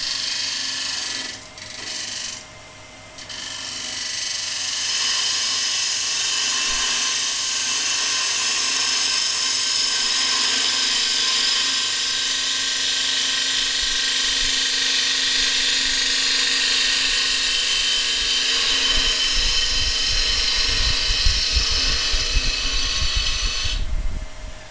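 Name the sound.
woodturning gouge cutting wood on a lathe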